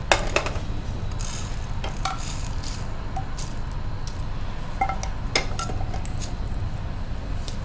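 Roasted sesame mixture for a brinjal fry is scraped out of a hot pan into a bowl, giving scattered metallic clinks and scrapes of a spoon against cookware over a steady low background hum.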